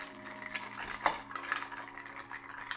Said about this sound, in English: Let's give it a nice stir.